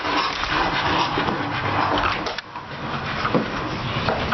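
A dog makes loud, continuous vocal noise, a rough, drawn-out sound close to the microphone, with some scraping and clatter in the background.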